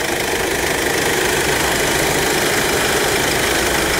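A clean diesel car engine idles steadily under an open bonnet, a loud, continuous rumble with a slight knocking clatter and no breaks or talk.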